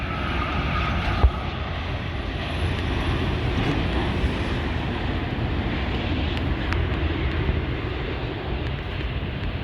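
A large passenger airliner comes in to land near Montreal, its jet engines producing a loud, steady, broadband roar that stays close and sustained throughout, with wind buffeting the microphone and no talk.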